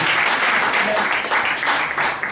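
A church congregation at a Sunday service breaks into loud, sustained applause, steady clapping from many hands filling the room.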